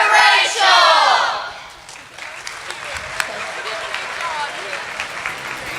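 Audience applause fills a school convention hall, a loud burst of clapping that fades after about two seconds into scattered claps, with voices talking over the tail.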